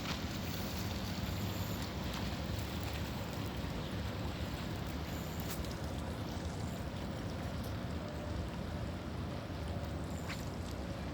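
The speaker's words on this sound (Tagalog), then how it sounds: "Lakas ng ano, alon." Strong sea waves churn at a shoreline fishing spot in Doha, Qatar, a constant, loud roar of surf and wind that fills the whole stretch without letting up, with no voices.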